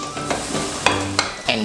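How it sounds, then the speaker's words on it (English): Hoki fillet dropped into a deep fryer, giving a steady bubbling sizzle with a few sharper crackles and pops over a couple of seconds. "I'm gonna start frying the Hoki"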